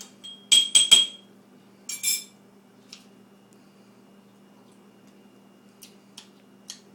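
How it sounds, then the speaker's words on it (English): Absinthe spoon stirring in a glass, a few quick bright metallic clinks near the start, followed by sparse faint taps over a low steady hum. "Give it a little stir."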